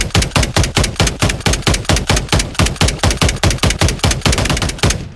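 Automatic gunfire from Call of Duty MW3 plays in a long, evenly spaced string of sharp, loud shots, about four or five per second, sustained for several seconds right up close with no pauses.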